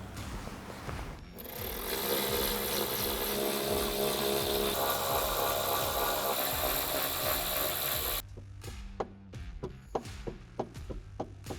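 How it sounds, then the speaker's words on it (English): A power tool whirs steadily, removing the four screws that hold the cross brace on a C8 Corvette Z06 during a header install, then stops and gives way to several sharp clicks and ratchet-like taps. "with a T40 Torx bit, we are going to remove the 4 screws holding the cross brace in place"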